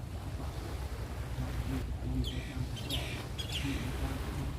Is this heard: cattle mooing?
no